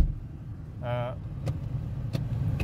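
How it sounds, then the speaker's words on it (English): A Smart Fortwo MHD micro-hybrid (451 model) with a fault that leaves it without reverse gear rolls slowly, giving a steady low engine rumble close by, with a brief rising whine partway through and a couple of faint clicks. "As you can see, the vehicle is moving"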